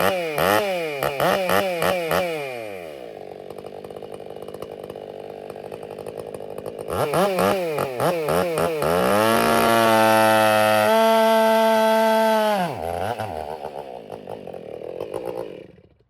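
Stihl 461, 462 and ported 500 chainsaws cutting wood cookies, engines revving loudly up and down with sustained high-pitched cutting runs, rising to a long full-throttle stretch and then idling down, no talking.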